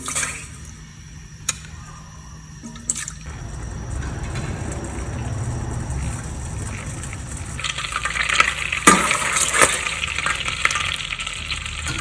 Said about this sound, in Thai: ตั้งไฟเคี่ยวกะทิ